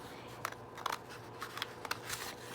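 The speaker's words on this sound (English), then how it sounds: "I'm just going to use my scissors and just cut along this lines" Scissors snip through vintage wallpaper in a quick series of close, crisp cuts, about six distinct snips over a couple of seconds with a soft papery rustle between them.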